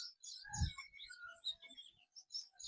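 Sparrows chirp in a village on a calm morning after rain, a quiet scatter of short bright tweets and trills at varying distances, with a soft low thump early on.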